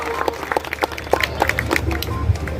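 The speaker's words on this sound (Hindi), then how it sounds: "मैं चाहता हूं कि उनके भी लिए आपकी जोरदार तालियां उठें" Applause from an audience at a Hindi poetry gathering at the Bachhrawan Dussehra fair, a steady patter of many hands clapping with some crowd noise mixed in, moderately loud throughout.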